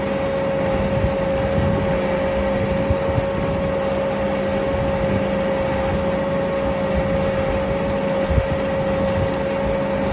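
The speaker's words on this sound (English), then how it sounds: "This is a good way to check your mixer and see if both screws are mixing good too." A vitamin/mineral feed mixer on a dairy farm running with both screws turning, a steady mechanical drone with a constant tonal hum, close by and unbroken for the whole stretch.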